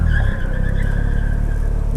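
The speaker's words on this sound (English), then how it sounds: "That shitty truck just peeled out of here." A truck peels out with squealing tires, a loud, continuous skid-and-engine roar that holds steady for about two seconds close by.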